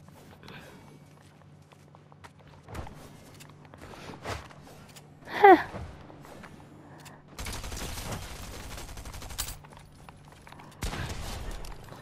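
Shotgun blasts and other gunfire in a battle royale video game come as a few scattered sharp reports amid footsteps, mechanical clicks and bursts of noisy action, with a brief voice-like tone in the middle.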